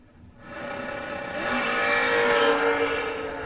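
A Chevrolet Camaro and another car launch at a bracket drag race, engine roar swelling from near silence into a loud, sustained acceleration heard from trackside.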